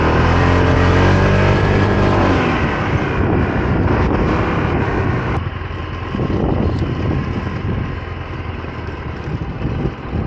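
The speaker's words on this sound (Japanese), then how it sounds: "エンジンかけましたけど" A 2024 Honda PCX scooter's engine runs at idle on its stand outdoors, a steady low hum with breezy wind rumble on the microphone throughout.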